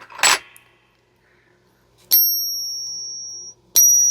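A silver Peace dollar is tapped for a ping test, giving a sharp metallic strike followed by a clear, sustained high ring that lingers over a second, then a second tap and ring, close and alone.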